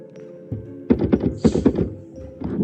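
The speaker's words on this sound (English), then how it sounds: "In the night, you hear some scrambling from outside the tent." Scrambling noises outside a tent at night in a Bigfoot hunting video game: a series of dull thuds and rustling knocks in an irregular cluster, fairly close and loud.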